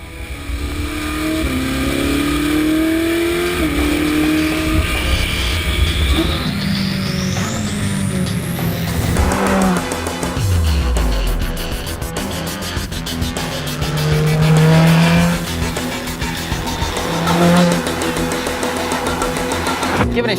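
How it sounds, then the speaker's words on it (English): A Ferrari 458 Speciale's engine revs up and down while driving on the road, loud and close with rising and falling pitch sweeps through gear changes and a lower, steadier drone in between. "the noise from the engine can be a bit overwhelming"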